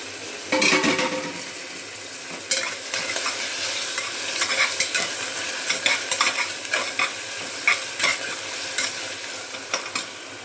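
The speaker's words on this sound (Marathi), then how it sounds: "कांदा टमाटा चांगला परतला इथे" Chopped onion and tomato sauté in a hot pan, with a steady oily sizzle and repeated scraping, clinking stirs from a spoon against the metal, loud and close throughout.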